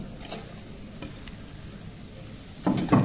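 Carrots and capsicum fry in a pan for Kolkata-style chowmein, with a low, steady sizzle and a few faint stirring scrapes that swell into a louder stir at the end.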